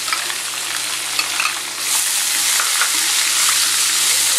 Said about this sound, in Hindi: अब हम इसमें अनियन डालेंगे